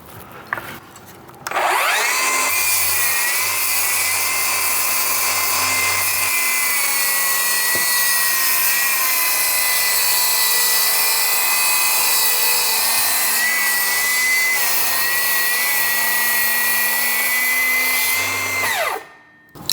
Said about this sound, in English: Now I'll finish that with the oscillating saw too.